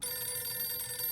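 A telephone ringing inside the survival video game 60 Seconds, a brief electronic ring tone sounding continuously and fairly faint, with no talking over it.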